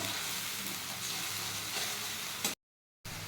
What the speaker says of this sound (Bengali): ওটা পেস্টটা মধ্যে দিয়ে এখন ওটা কিছুক্ষণ নেড়ে চেড়ে কষিয়ে নিচ্ছে